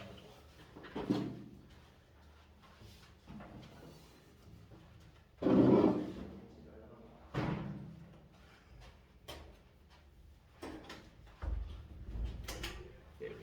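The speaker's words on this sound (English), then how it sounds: "we'll shut the door." A door is shut indoors with one loud thump midway, surrounded by quieter knocks, shuffles and rustling in a quiet room.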